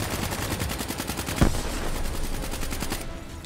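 Sustained machine-gun fire in Black Ops 3 Zombies pounds out an even, rapid rhythm of loud close shots, with one heavier blast midway and the firing cutting off near the end.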